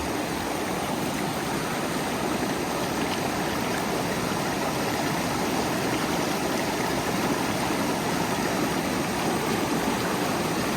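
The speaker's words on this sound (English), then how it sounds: "This is a convergent spot between 2 sections of the creek that wrap around an island." Creek water rushes steadily where two channels meet around an island in a tight mountain stream. The broad, continuous wash stays close and even throughout, with no voices.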